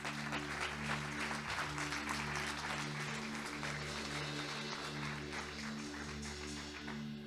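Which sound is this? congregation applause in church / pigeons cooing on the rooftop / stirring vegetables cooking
congregation applause in church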